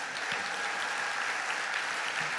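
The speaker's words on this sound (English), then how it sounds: "Give yourselves a big round of applause." Audience at a conference opening plenary session, steady sustained clapping from a crowd filling the whole moment, moderately loud and without talk.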